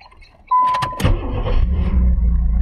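A Pontiac Firebird's engine cranks with a short starter whir, then catches and settles into a loud, steady rumbling idle, close up and without talk.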